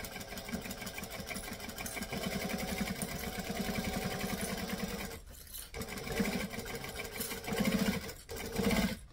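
A sewing machine stitches a panel beach bag in a steady mechanical chatter. The rhythm runs continuously, pauses briefly, then resumes in shorter bursts, close and moderately quiet, with no voices.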